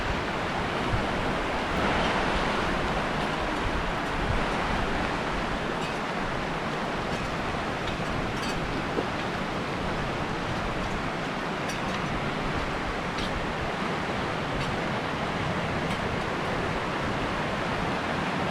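Steady, broad rushing of the East Quinault River fills the whole stretch, constant and fairly loud with no voices, the river running close beside a trail.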